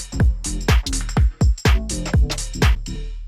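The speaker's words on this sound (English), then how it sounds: "here's the triplet kind of 16th note groove" Swung triplet sixteenth-note drum groove loop with punchy low kicks and bright hits in a lilting shuffled pattern, repeating steadily, close and loud, with no voices.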